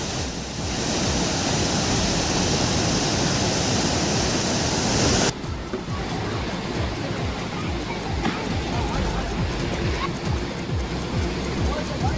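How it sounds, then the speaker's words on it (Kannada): A flooded waterfall on the Kaveri river, swollen by heavy rain and overtopped by water, roars as a loud, continuous broadband rush. The recording cuts partway through to another steady stretch of rushing water. "ಜಲಪಾತದ ಮೇಲೆ ನೀರು ಹರಿಯುತ್ತಿರೋದ್ರಿಂದ ಜಲಪಾತವೇ ಮುಳುಗಡೆಯಾಗಿದೆ"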